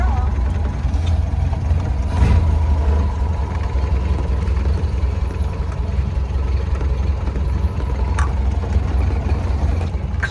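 The engine of a 1931 Ford Model A pickup idles in a steady, low, uneven rumble throughout, with some voices talking over it.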